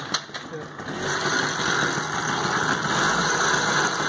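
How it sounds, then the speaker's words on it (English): A TVS Super XL 70cc heavy-duty motorcycle engine runs on petrol, a steady close idle with an even mechanical drone after a brief kick-start rattle. "now the bike is running on the petrol."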